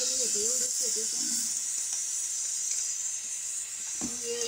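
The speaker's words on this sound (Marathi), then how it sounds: "कुकर शिजवत आहे स्वयंपाक खोलीमध्ये" A pressure cooker hisses steadily while cooking dal in a home kitchen, a continuous close steam hiss running throughout, with a faint voice heard underneath.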